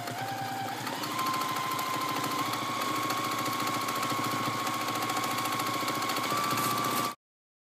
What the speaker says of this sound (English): Now I'm going to pebble stitch in my borders, going over the white 1-inch marker line that I drew on my blocks.